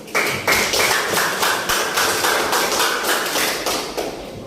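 Applause for the first student group in a classroom, many hands clapping steadily and loudly throughout with a dense, continuous rhythm and no voices.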